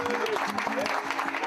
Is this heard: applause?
yes